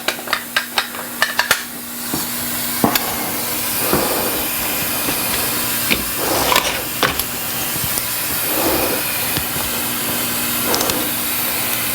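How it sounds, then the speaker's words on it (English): Air drains from an Edgun Leshiy 2 air rifle in a steady, fairly loud hiss, with scattered clicks and small handling knocks over it. "the air's almost drained out"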